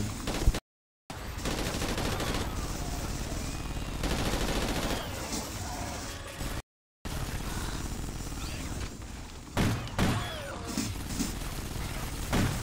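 Incendiary-round gunfire in Ghost Recon: loud, dense sustained automatic fire filling nearly the whole stretch, broken by two brief silent gaps, with a few heavier bursts near the end.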